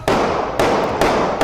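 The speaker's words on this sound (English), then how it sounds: "More than a dozen shots are heard." Gunfire picked up by a street live stream camera before 3 a.m., a rapid burst of loud, sharp cracks that blend into dense, overlapping bangs with four distinct onsets in quick succession.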